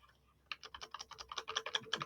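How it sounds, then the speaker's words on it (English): Rapid typing on a computer keyboard, a quick run of close, crisp key clicks beginning after a short quiet moment and continuing steadily. "But let me type in,"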